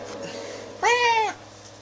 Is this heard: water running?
no